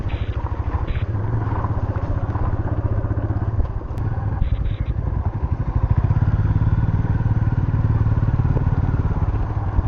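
A motorcycle rides a mountain road near Mechuka in Arunachal Pradesh, its engine a steady, loud, close drone with brief clatters and a rising rev toward the end, and no voices.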